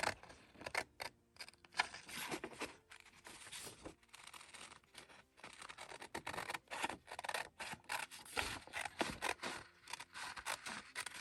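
Scissors snip through a paper holly cutout in a steady run of short crisp cuts, close and fairly quiet, with paper rustling between strokes and no talk.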